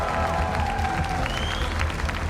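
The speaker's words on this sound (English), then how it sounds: "please, a round of applause for your champions" Esports crowd at a live Dota 2 match claps and cheers for the champion team, a dense burst of applause with a few whistles cutting through.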